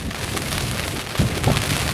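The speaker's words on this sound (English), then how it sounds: "It's just that side that's been battered by the wind and rain." Heavy rain and gusting wind in a 30-mile-an-hour winter gale battering a small shelter on an exposed hilltop, a constant close hiss of drops drumming on the surface with a few louder gusty thumps.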